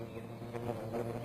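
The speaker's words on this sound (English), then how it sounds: "This is a male red mason bee" A male red mason bee buzzes close by, a low droning hum that wavers in pitch over a second or so.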